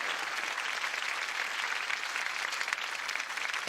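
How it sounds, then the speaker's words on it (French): Steady applause from a studio audience on a French television variety show, filling the room evenly and continuously at close range with no voices over it. "je vous demande de les applaudir très fort avec toute l'équipe"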